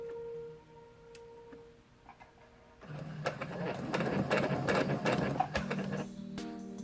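A sewing machine stitches cosplay fabric while a zipper is put in. After a quiet start with faint clicks, a steady close mechanical whir runs for about four seconds.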